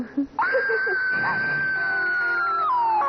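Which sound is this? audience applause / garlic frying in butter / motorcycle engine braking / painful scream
painful scream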